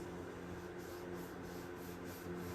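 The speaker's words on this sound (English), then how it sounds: "You can use sandpaper on the edges to try to even that up a little bit." Sandpaper rubbing along paper edges in a craft project, a soft, steady scratchy rasp in rhythmic back-and-forth strokes, close and quiet, with no talking.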